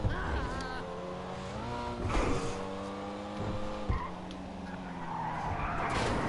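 Pfister Comet SR sports car in GTA 5 sliding with oversteer, its engine note rising and falling in steady harmonic sweeps while tires scrub and squeal across the surface, loud and continuous with no talk.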